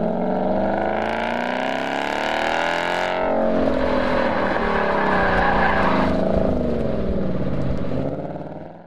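A Ford Mustang on an autocross course revs hard and sweeps through a spin, its engine note rising and falling as traction control and ABS cut in, loud and close throughout.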